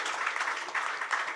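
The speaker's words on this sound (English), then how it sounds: "Round of applause." A press-conference audience gives a short round of applause, a soft, even ripple of clapping lasting just over a second.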